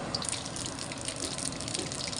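Mustard seeds sputtering in hot oil in a home kitchen while a Tamil curry and rasam are cooked, giving a steady, dense crackling hiss with no pauses.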